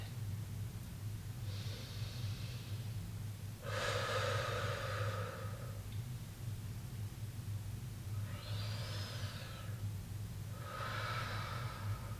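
Slow, deep breaths during a breathing exercise: four drawn-out inhales and exhales, each a few seconds long with pauses between, close and clear over a low background hum, no talking.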